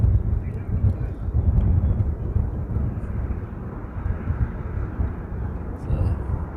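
Steady broadband roar of an airplane taxiing out toward the reef runway at a Hawaii airport, heard from a distance with wind noise and faint sounds on top.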